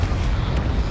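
A brief, loud, rumbling blast from the Confringo fire spell in the Hogwarts Legacy video game, a dense booming burst under a second long with no voice.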